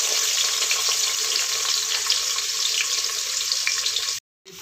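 Onions sizzle in a pan as the base for a potato and aubergine curry, a close, steady hiss of frying that stops abruptly near the end, with no voices.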